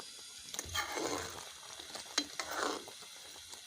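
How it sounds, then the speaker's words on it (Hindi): Cham cham sweets simmer in sugar syrup over low heat, a soft frothy bubbling with faint clinks and stirring scrapes, close by and fairly quiet. "ये पक रहे हैं। ये देखें, झाग बनी हुई है और ये हल्की आंच पे पकाने हैं आपने।"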